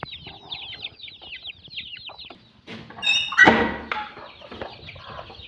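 Chickens and chicks on a farm: a rapid run of high chick peeps opens, then louder hen clucks and a short squawk burst midway, with softer clucking trailing off.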